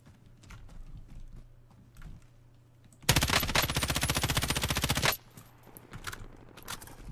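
Video game gunfire: a sustained automatic burst of rapid, evenly spaced shots lasting about two seconds, loud against a quieter background of faint clicks and ambience, with no talk.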